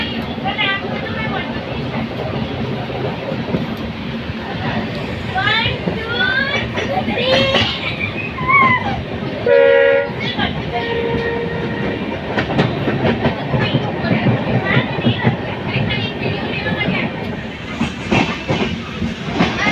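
An Indian Army train passing near Pokhran in Rajasthan, heard as a continuous rumble with rhythmic clickety-clack of wheels and some screeching, with voices and other sounds from people nearby mixed in throughout.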